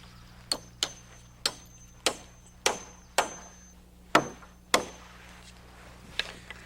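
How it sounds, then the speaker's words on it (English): Hammer blows driving nails into a wooden sway brace on a timber roof ridge, about ten sharp, separate knocks at an irregular pace, fairly close in a quiet room. "To do that, we nail in a permanent sway brace."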